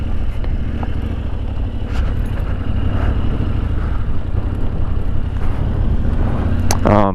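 Yamaha Tenere 700 adventure motorcycle ridden off-road, its engine droning steadily and loudly under wind buffeting, with a brief rising whine near the end.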